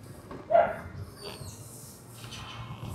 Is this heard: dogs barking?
yes